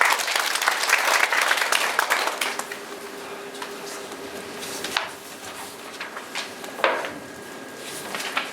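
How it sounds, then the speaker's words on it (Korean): An audience at a garlic-farming lecture breaks into loud applause for a few seconds, which fades into scattered claps and quiet room noise. "힘차게 박수 부탁드리겠습니다"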